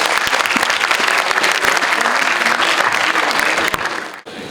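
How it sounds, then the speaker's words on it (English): Loud, dense applause from a crowd at an International Women's Day event, a continuous roar of clapping that cuts off abruptly near the end. "Let us all have a huge round of applause for ma'am"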